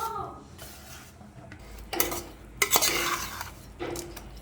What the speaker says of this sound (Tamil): இப்போ நம்ம இதில் சாதத்தை கொட்டி கிளற போகிறோம்.